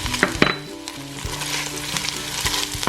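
Onions, ginger and garlic sizzle in a pot, a close, steady frying hiss broken by a few sharp clinks and scrapes of stirring.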